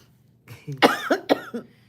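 A single close cough, a quick couple of harsh bursts with a throaty edge, alone in an otherwise quiet moment.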